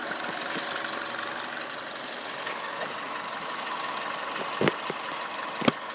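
2014 Chevy Sonic LT turbo with a K&N cold air intake idling, heard near the intake as a faint steady hum and whir with a couple of sharp clicks near the end.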